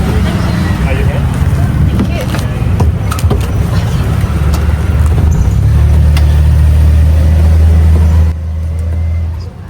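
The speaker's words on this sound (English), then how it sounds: "So this is the tuk-tuk service." Motorized tuk-tuk in Bangkok putters along with a steady low engine drone and road rumble that thickens mid-ride and then drops, traffic noise and wind around it, with talk faintly over the engine.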